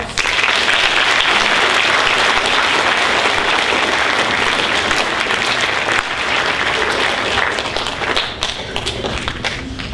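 Sustained applause from a college admissions panel audience, dense and steady throughout, with scattered individual claps standing out near the end.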